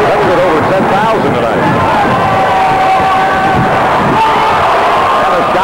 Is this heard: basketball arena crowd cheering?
yes